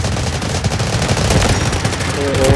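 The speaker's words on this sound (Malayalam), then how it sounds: "വെടി വരുന്നുണ്ട്." Rapid gunfire from Delta Force Mobile, played on the Threshold map, crackles in dense bursts through the whole stretch, with a voice partly audible beneath.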